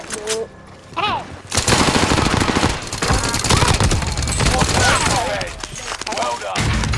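Sustained video game gunfire with rapid bursts of automatic fire, loud and continuous for most of the stretch, while voices talk intermittently over the shooting.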